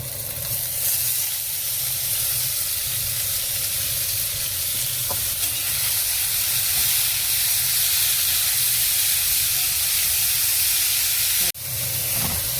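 Boiled drumstick flowers and potatoes, seasoned with salt and turmeric, fry in a pan with a steady, loud, close sizzle that runs unbroken, with a brief clatter near the end.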